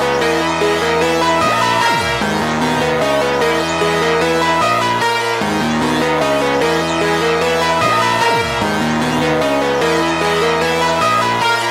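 A melodic sample loop from a loop kit, meant as the base of a trap beat built in FL Studio, plays loud and steady with dense layered chords and repeating phrases, no voices.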